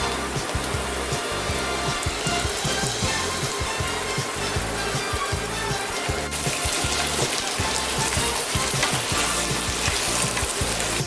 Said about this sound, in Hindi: अब आलू और बैंगन का अच्छा से फ्राई करना चाहिए।